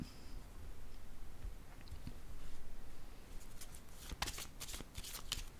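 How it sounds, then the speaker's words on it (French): Tarot cards handled on a table, with soft shuffling and a few crisp taps and slides as a card is set down near the end, close and quiet. "Je vais déposer une carte ici."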